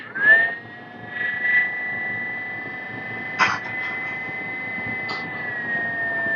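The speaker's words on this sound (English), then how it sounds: "So I'll turn on the grinder, you can hear the sound." A Timemore Sculptor 078S electric coffee grinder runs with a steady, fairly quiet high whine that holds one pitch throughout, with a few faint clicks and brief rattles along the way.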